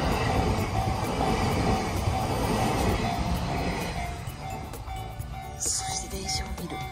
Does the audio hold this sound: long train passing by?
yes